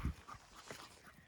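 A Staffordshire Bull Terrier pants quietly and steadily during a long fetch session, the soft rapid breaths close but faint, with no voices.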